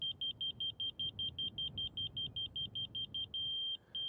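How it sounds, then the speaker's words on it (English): A laser level receiver on a grade rod holds a steady high electronic tone after a run of rapid, evenly spaced beeps, loud and close with no talk. "There's a solid tone when I'm in line with the laser."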